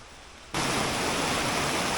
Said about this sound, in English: It's just started raining a little bit, but it's not very heavy, especially under the tree cover.